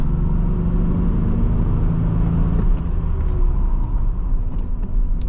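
A 1985 Nissan 300ZX with T-tops drives along, its engine and road noise a loud, steady rumble that shifts and eases as the brakes come on hard partway through, followed by faint small rattles.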